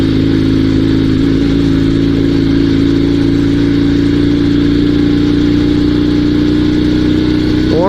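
A Dnepr two-wheel-drive sidecar motorcycle engine runs steadily for the whole stretch, a loud close-up drone with a rough mechanical rumble, after a clutch-burning off-road ride.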